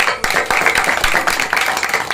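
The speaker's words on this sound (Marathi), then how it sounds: "बुवासाठी एकदा जोरात टाळ्या वाजवू" A bhajan audience claps loudly and steadily after a devotional singing performance, a dense, continuous patter of many hands with sharper individual claps popping out.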